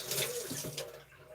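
Cold water running from a tap into a sink, a short splashing gush that varies in texture and eases off toward the end, fairly quiet.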